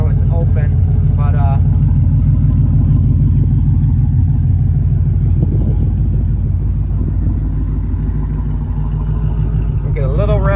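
A Ford Mustang Boss engine with its side pipes removed for an open exhaust, rumbling loudly and steadily close by, with a slight rise around the middle and faint voices in the background.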